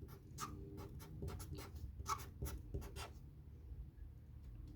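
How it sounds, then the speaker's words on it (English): Pen or marker writing out a math inequality problem, a run of quick scratchy strokes with short pauses between them, close and fairly quiet, no voices. "So again, I'm going to write this out"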